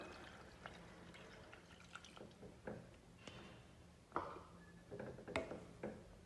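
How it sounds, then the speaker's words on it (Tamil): Water is poured into a pan of paneer and peas gravy, giving faint, soft splashing and dripping with a few small clinks. "1 கப் அளவு தண்ணி ஊற்றிடலாம்."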